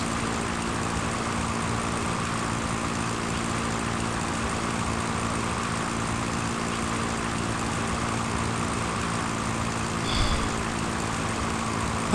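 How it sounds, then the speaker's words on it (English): Aircraft engine in the retro flight simulator Sierra Pro Pilot, a steady, loud, unbroken drone throughout with a brief bump near the end. "I really should not be flying this aircraft."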